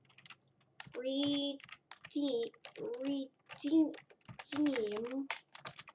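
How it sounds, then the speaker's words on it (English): A digital movie code is typed on a computer keyboard in bursts of quick, close key clicks, between and under stretches of a person talking. "and let's type it in"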